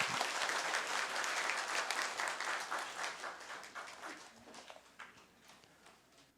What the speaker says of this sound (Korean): 박수 한 번 더 치겠습니다.